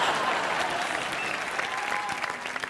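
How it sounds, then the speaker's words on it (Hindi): Audience applause on a television entertainment show, a studio crowd clapping densely and loudly, fading slightly toward the end. "तालियां।"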